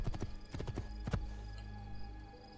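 Horse hooves clip-clop in Assassin's Creed II, a quick run of close, distinct hoof strikes in the first half that stops near the middle, then fades into a steady low game ambience.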